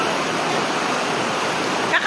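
Water runs in a steady, broad rush while someone bathes, close and fairly loud. The flow barely changes, with a slight splash near the end.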